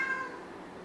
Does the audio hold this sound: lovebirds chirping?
no